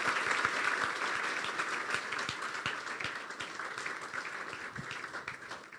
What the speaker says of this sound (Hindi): जोरदार तालियां भाई इस बच्चे के लिए